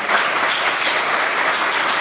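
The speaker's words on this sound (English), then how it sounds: "big round of applause for our panel and for Aafia Chaudry" An audience at a physicians' health-technology panel event claps for the panel and Aafia Chaudry, a steady, full round of applause that holds at an even level throughout.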